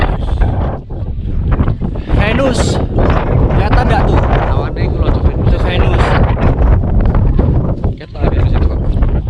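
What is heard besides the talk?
wind blowing on Mount Slamet summit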